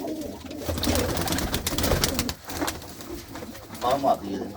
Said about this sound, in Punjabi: ਮੇਨ ਵੱਡਾ ਕਬੂਤਰ ਲਾਲ ਡੋਰੇ ਵਾਲਾ